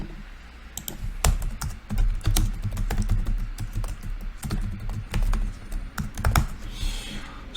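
Rapid, uneven keystrokes on a computer keyboard, close and clear, as C# code is typed for an enemy AI script in the Unity engine, with short bursts and brief pauses and no speech.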